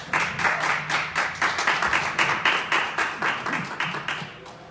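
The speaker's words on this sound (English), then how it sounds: "we'll give them another round of applause" A small audience at a personal branding SEO talk gives a round of applause, with individual claps clearly distinct in quick rhythmic pulses of moderate loudness that thin out toward the end.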